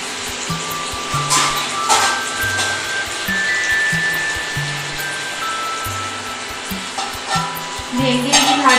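Okra (bhindi) frying in a pan, with a steady close sizzle under repeated scraping stirs of a spatula; a low tonal hum runs beneath and a few clinks punctuate the stirring.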